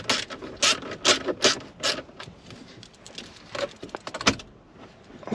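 A hand ratchet clicks in quick bursts while bolts are snugged down during a car stereo install, close and crisp, with short pauses between runs of strokes.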